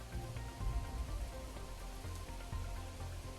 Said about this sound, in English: Is it raining now? It is raining now.